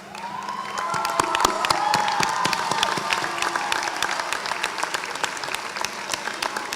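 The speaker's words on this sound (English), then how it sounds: "please stand and receive an appropriate round of applause" Loud, sustained applause from a large audience at a college commencement ceremony, with dense clapping and a few cheers and whoops rising over it, steady throughout.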